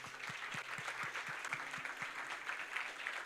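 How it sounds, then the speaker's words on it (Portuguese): A church congregation applauds during a healing and deliverance service. The clapping is faint and distant, a soft steady wash over a row of regular low thumps. "Aplauda o Senhor, amém?"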